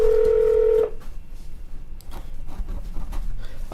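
A telephone call placed to Coldwater, Ohio city hall: a steady tone ends after under a second, followed by faint clicks and line noise, close and fairly loud, with no voices.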